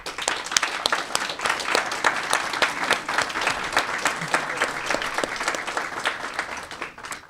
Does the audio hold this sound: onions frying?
no